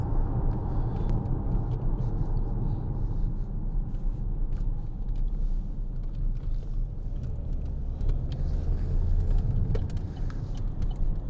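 Low, steady diesel drone from inside a 2014 Vauxhall Insignia 2.0 CDTi SRi as it accelerates, the engine rumble rising gently and staying even and moderate throughout.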